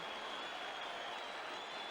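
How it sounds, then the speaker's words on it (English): Crowd at a cricket match reacting to the finish, a dense, steady wash of cheering and applause heard from a distance, constant for the short stretch. "And you can hear the crowd."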